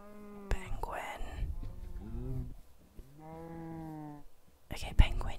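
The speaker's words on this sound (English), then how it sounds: "There is a goat on top of the portal." A goat in the Minecraft video game bleats several times in short wavering calls, moderately close, between stretches of quiet whispering.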